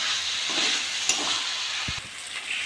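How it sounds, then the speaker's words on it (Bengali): Potatoes being sautéed in oily spice masala for a rohu fish curry, a loud continuous hiss of frying with soft stirring scrapes and one low thump, close up with no talking. "আমি এবার আলুগুলো দিয়ে নেবো। এবার ভালো করে কষে নেব।"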